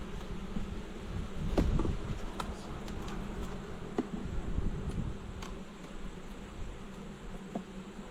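Honeybees humming inside an open hive, a steady dense drone close by with a few light knocks and clicks on top, people speaking softly nearby.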